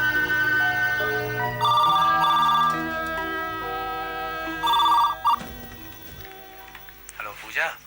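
A telephone rings in repeated electronic bursts indoors, with soft background music and brief rustling between rings, close and clear.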